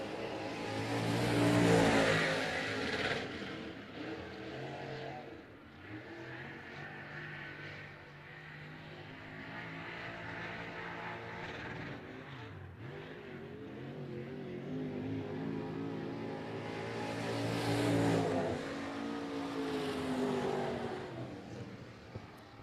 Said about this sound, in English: Getting onto the rev limiter.